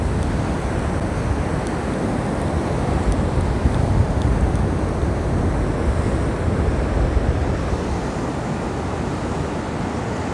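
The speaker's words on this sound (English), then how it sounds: "What a beautiful beach this is" Ocean surf rolls steadily onto the beach at Brenton-on-Sea, a broad continuous wash mixed with wind buffeting the microphone, no talking.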